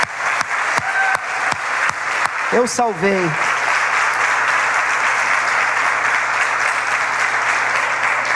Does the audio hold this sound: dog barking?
no